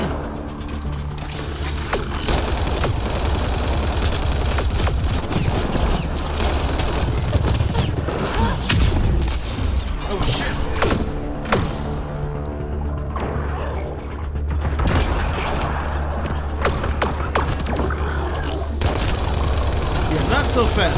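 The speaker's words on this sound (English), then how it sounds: "We all just open fired on the thing." A squad in the Mass Effect Andromeda video game opens fire, producing sustained, loud bursts of gunfire with booms and impacts. Voices talk over the shooting throughout.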